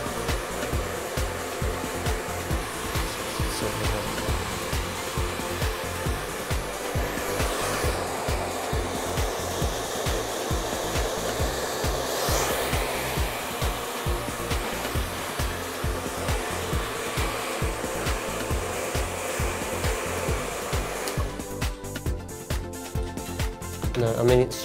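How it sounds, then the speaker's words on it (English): A hair dryer blows with a steady, loud whooshing roar throughout, close by, shifting slightly as it moves to ruffle hair, with a voice briefly underneath. "Now I'm just going to ruffle the hair with a hairdryer"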